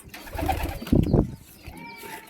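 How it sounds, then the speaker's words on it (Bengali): Pigeons scuffle and coo nearby, with one loud, throaty burst of cooing and rustling in the middle between quieter bird sounds. "পায়রার মারামারি দেখাবো তোমাদের।"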